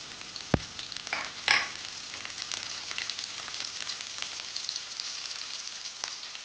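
Carrot, capsicum and onion sautéing in a pan for street-style vegetable noodles, a soft steady sizzle with a few sharp clicks and taps near the start.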